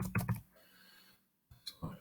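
A file path is typed on a computer keyboard in a few quick, close clusters of key clicks separated by brief pauses.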